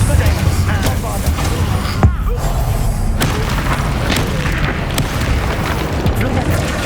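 Bombarda explosion spell cast in the Hogwarts Legacy video game, a dense continuous barrage of booming blasts and magical impacts with a sharp thump near the two-second mark, loud throughout amid combat noise.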